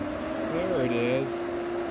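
Electric radiator fan from a 1997-or-later model, fitted to a 1989 Jeep Comanche Eliminator, spinning with a steady whirring hum and a tone that bends as it comes up to speed, continuous and close.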